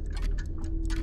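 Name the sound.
many clocks ticking in Madison video game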